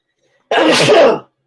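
A single loud, close sneeze bursts out suddenly after silence, lasting under a second before cutting off.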